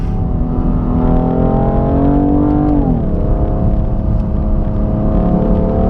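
A 2017 BMW M3 Competition with a double-clutch transmission revving hard under load, a loud close engine drone that climbs and then dips sharply in pitch at a quick gearshift before pulling again.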